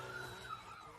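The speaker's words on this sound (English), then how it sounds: "drifting right in the middle of a busy intersection" Car drifting through a busy intersection, a sustained high tire squeal that wavers in pitch over engine and traffic rumble, heard from a moderate distance.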